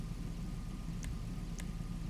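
A Karin Calico GTF tuner sports car with dual exhaust in GTA 5 idles with a steady low engine rumble, two faint short chirps rising briefly above it.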